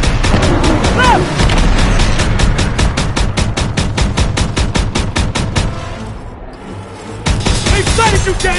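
Rapid, loud bursts of automatic gunfire in a Call of Duty battle rattle in a steady rhythm for several seconds, pause briefly, then resume, with voices partly buried beneath the shots.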